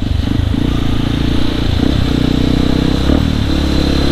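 A motorcycle fitted with an aftermarket ECU climbs uphill at night near Bandung, its engine a loud, steady close-up drone with a slight rattling texture and small rev shifts.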